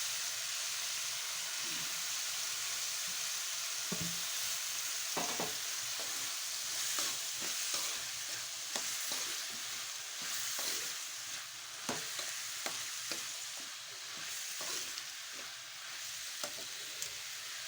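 Carrot, cucumber and other vegetables fry in a pan with a steady, continuous sizzle, broken by scattered clicks and scrapes of stirring throughout.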